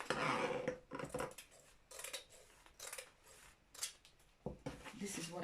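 Scissors snip through fabric while an A-line gown is cut out, giving a string of close, crisp cuts and rasping slides, some louder and some faint, with short pauses between strokes.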